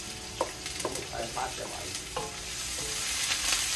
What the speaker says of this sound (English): let's go fry up this provision here